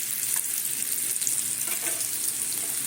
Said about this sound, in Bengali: এখানে কচুটা ভেজে তুলি